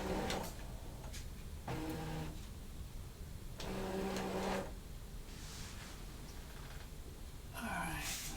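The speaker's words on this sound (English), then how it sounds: "let's make the machine happy and just load the mat" A Brother ScanNCut cutting machine loading its cutting mat, giving several short whirring motor bursts with ticking and clicking between them, close and moderately loud, with some quiet speech in the background.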